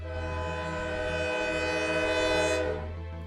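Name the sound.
train horn and passing train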